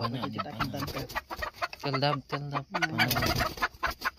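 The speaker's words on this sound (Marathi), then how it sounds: "कोंबड्या" Chickens clucking nearby in a rural outdoor setting where a cobra was found, with clucks and squawks coming in bursts across a few seconds.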